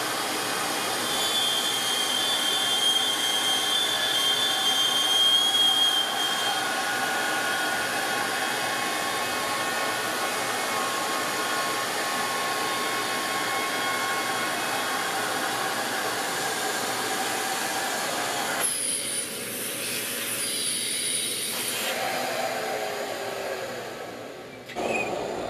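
A Shaper Origin handheld CNC router cuts finger pulls into wood with a loud, continuous high whine and airy roar, then changes pitch briefly near the end as the cut finishes.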